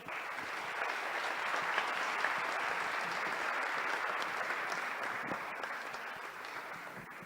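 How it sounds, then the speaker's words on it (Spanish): An audience at a formal legislative event applauds together, a steady wash of clapping hands that holds for several seconds and then tapers slightly near the end, heard from a distance. "Un fuerte aplauso."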